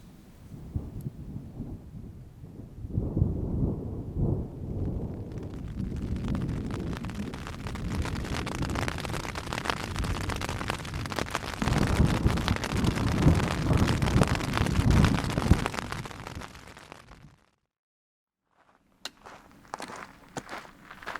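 Thunderstorm rain pounding a trail campsite on the Colorado Trail, heard as a dense, rushing wash with low rumbling that swells for several seconds, holds loud, then cuts off abruptly to near quiet, with faint sounds after.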